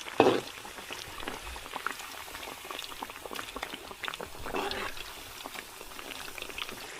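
Sugar-coated sweet potato (kamote cue) fries in oil with a soft, busy bubbling and crackling, fairly quiet, plus a sharper pop near the start and a faint voice in the background.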